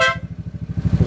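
Horn on a GY6 scooter honking in a steady buzzing tone for about a second, loud and close, with the idling engine underneath.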